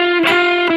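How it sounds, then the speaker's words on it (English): A distorted electric guitar sustains a loud, buzzing note, and two quick hammer-ons bring brief pitch changes within under a second. "A couple of hammer-ons."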